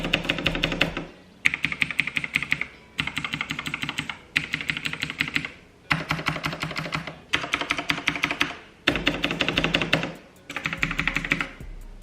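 Bursts of rapid typing on a Razer keyboard with green clicky switches, close and crisp, with dense sharp clicks in runs of about one to two seconds separated by short pauses.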